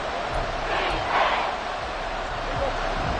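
Football stadium crowd roaring during a late-game third-down play, a dense, steady wall of cheering noise with no lulls throughout.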